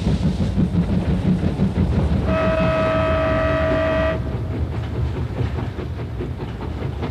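A train running on a new railway line along part of the ancient Silk Road between Turfan and the Tianshan, a steady loud rolling rumble with a sustained whistle-like tone in the middle.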